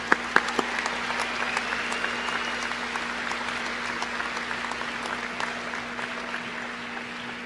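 A crowd claps steadily at a college commencement ceremony, a dense wash of applause with a few sharper claps near the start, sustained throughout.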